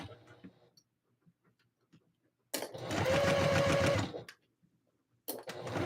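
A home sewing machine stitches ruffles on a long stitch length, a close, loud rapid chatter running for under two seconds, then starting again briefly at the end, with quiet taps and handling between runs.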